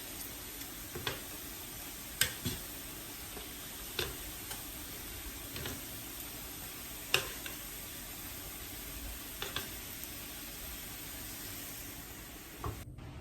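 Pork belly frying in a pan gives a soft, steady sizzle, and sharp pops and ticks break through it every second or two.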